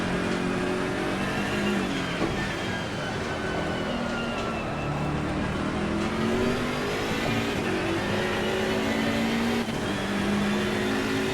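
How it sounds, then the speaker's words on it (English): A race car engine in Assetto Corsa Competizione runs on a wet track, holding a loud, continuous high-revving drone with slight pitch wobbles as it sits near the rev limiter, with no pauses across the stretch. "Just let it hit the limiter because it's wet."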